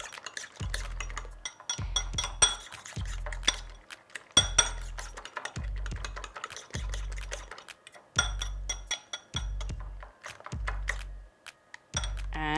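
Eggs with peppers, chilies and a pinch of salt are beaten in a bowl, giving a steady run of crisp, close clinks in an even rhythm with brief pauses, no voices.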